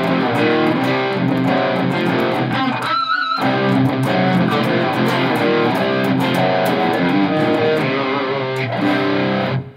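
An electric guitar plays sustained, ringing chords through a Tone King amplifier with a Hall of Fame 2 reverb pedal giving a lush reverb tail, loud and continuous with a brief pause midway.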